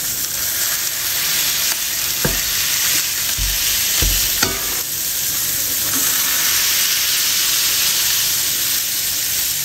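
A smash burger patty sizzles loudly on a hot surface after being pressed flat with a spatula, a dense steady hiss with a few sharp scraping thuds early on, no talking.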